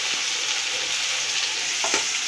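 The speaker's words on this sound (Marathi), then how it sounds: "मी 2 चमचे बेसन घेतलेलं आहे, हे मिक्स करूया।" Gram flour is stirred into a frying tempering for Maharashtrian kadhi, giving a steady close sizzling hiss with a couple of soft scraping stir sounds near the end.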